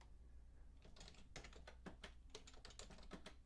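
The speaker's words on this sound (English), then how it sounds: "Oh, this wireless keyboard, and it acts up on me sometimes." Rapid typing on a wireless computer keyboard, a dense run of sharp key clicks in uneven bursts with a few louder strikes, close and alone with no talk.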